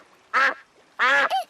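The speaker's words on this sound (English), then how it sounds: "It's Mrs. Duck." Two loud, nasal quacks from a cartoon duck in a Peppa Pig canoe trip scene, spaced about half a second apart, the second followed by a short rising squawk, with no talking.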